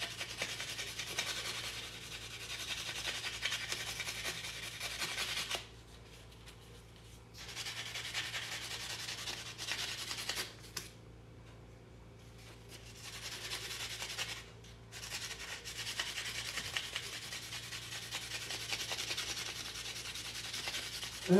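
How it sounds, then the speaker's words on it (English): Sandpaper rubbing along the freshly cut edge of a piece being high-polished, a steady close scratchy hiss in long strokes broken by a few brief pauses. "I need to sand this cut edge a little bit, smooth it up."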